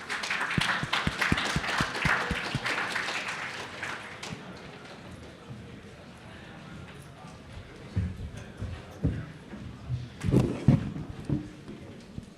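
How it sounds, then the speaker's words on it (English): Audience clapping for a panel on building generational wealth with NFTs, loud and dense for the first few seconds, then fading into a quieter room with scattered knocks and handling noises. "Let's give them a round of applause."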